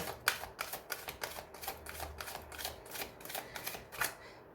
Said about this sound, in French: Alors moi je vais recouvrir les cartes négatives.